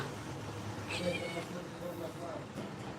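A cat meowing once, a short clear cry amid steady background hum and soft room noise, with people talking nearby.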